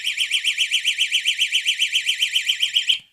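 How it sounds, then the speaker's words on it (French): A door-mounted anti-theft security alarm shrills loudly in a fast, pulsing electronic warble for about three seconds, alone, then cuts off abruptly. "c'est l'alarme de porte"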